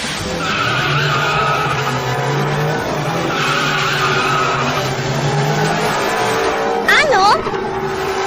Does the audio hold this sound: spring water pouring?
no